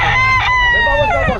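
A rooster crows loudly and close by in one long, strained call, with faint clucking and other fowl noises around it.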